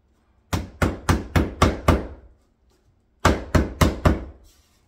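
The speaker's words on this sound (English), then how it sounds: "So my nail gun is broken, so I'm gonna hand nail these." Nails are hammered by hand into wooden stair risers: a rapid run of six sharp, ringing blows, a pause, then four more close-up strikes, loud with no talk.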